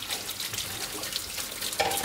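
Tap water running into a home kitchen sink while hands are rinsed of soap foam, a steady soft splashing hiss with a slight change in the stream near the end.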